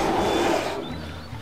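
A bear roars in a Turkish comedy film, a loud, rough, sustained roar that fills the first half and then fades under quieter background sound.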